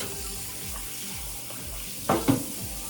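Kitchen tap water runs steadily while something is rinsed under it in a sink, a close, continuous splashing hiss with a brief louder splash near the end.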